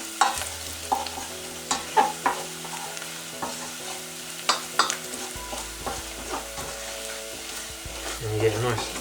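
Coriander and spices sizzling in a hot pan as a spoon scrapes and stirs them, with repeated clinks and a steady frying hiss, close by, while a voice is faintly present.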